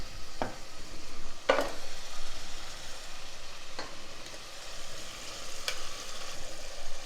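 Eggplant sizzles steadily in hot oil in a pan while making baingan bharta, with a few sharp clinks of a utensil stirring against the pan over the constant frying hiss.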